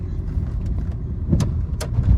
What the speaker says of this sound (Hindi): बहुत ट्रैफिक है रात के हिसाब से